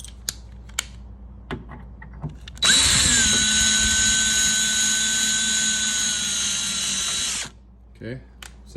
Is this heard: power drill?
yes